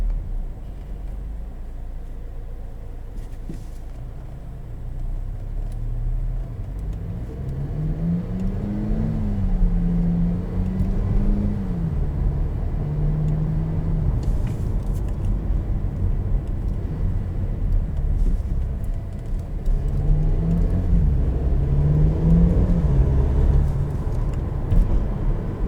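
A 2018 Infiniti QX30 engine hums low and steady, its pitch dipping and rising as it slows under engine braking through its dual-clutch transmission, with road rumble throughout.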